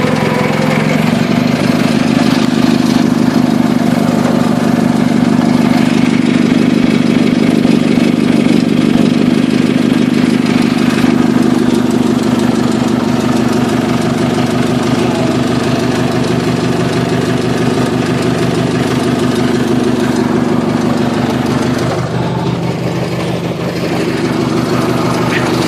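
A tractor engine runs loud and steady through a first-gear run up, a heavy mid-range drone with knocking texture that holds nearly constant for most of the stretch, then shifts slightly near the end.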